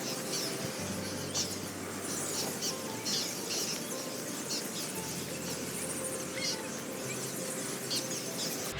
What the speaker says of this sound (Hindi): देखें कितने खूबसूरत जो है वो परिंदे चहचहाते हुए